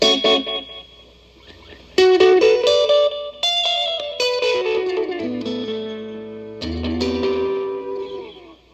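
Tube tape delay, a vintage Echolette NG51 S Golden Box, throws loud repeating echoes of played guitar notes, each phrase trailing off in dark, decaying repeats with no talking.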